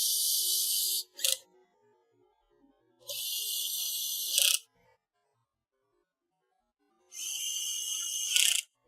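Screws being driven into a sub rack chassis, heard as three separate bursts of high, hissing mechanical whirring with short pauses between them, close and fairly quiet against near silence.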